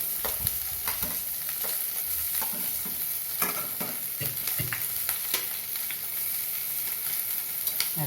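Onion and curry leaves fry in oil for a sambar, a close crackling sizzle broken by repeated spatula stirs and scrapes throughout, with no voices.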